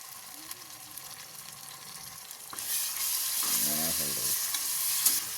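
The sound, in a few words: ginger garlic paste frying in pan for vegetable biryani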